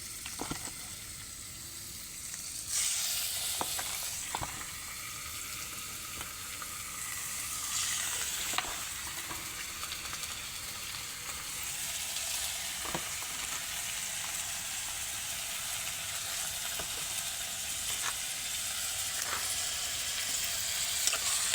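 Chicken gizzards frying in a pan with garlic, onion and ginger, a steady broadband sizzle with occasional brief scrapes and clinks, close and continuous, no talking.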